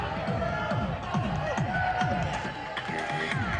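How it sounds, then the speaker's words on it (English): A wrestling crowd jeers and boos a tag team of two pretty-boy wrestlers as they make their way down to the ring, a dense, continuous roar of many voices filling the hall at close range. "Crowd giving them a piece of their minds."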